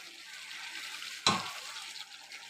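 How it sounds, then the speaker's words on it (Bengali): A splash of water poured into sizzling raw ban fish curry in a pan, one sharp loud hiss burst against a quieter steady frying sizzle. "মাছটা সিদ্ধ হবে এর জন্য আমি অল্প জল দিয়ে দিলাম"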